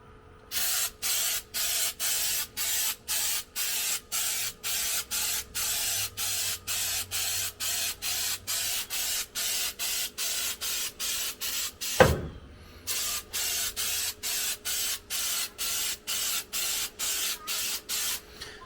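A spray gun in a shop applying a chunky bedliner-like coating, firing in rapid regular bursts of loud hiss with short gaps, pausing briefly once with a thump before resuming the same steady pattern.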